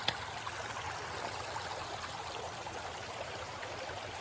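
The Kennebec River flows at an Appalachian Trail crossing in dry weather, a soft, even rush of moving water heard at a distance, steady and unbroken with no voices.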